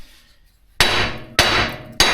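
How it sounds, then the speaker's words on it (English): A 3-pound hammer hits a seized wheel bearing on a steering knuckle in three loud, close metallic blows, each ringing briefly before the next strike. "I just use a 3-pound hammer and hit all around it."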